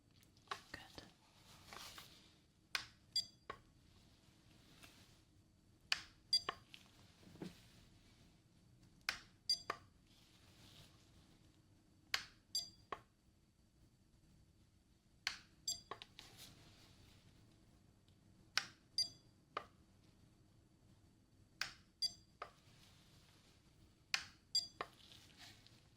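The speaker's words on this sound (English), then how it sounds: "I want you to tell me when you hear that little beep" A hearing test tool emits quiet, short sharp clicks and beeps in scattered bursts during an ASMR ear exam, over a near-silent background with soft whispery sounds.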